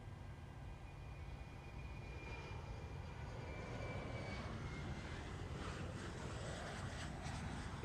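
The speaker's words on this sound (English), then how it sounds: "Okay, engine 1 is stable. We can start engine 2." A PMDG 737 jet engine spools up in Microsoft Flight Simulator at an airport, a steady broadband turbine roar with a rising whine that builds gradually and holds loud and continuous throughout.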